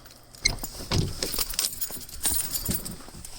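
Jeep XJ car keys jangling and clinking close by, a few bright metallic rattles in quick succession against a quiet background.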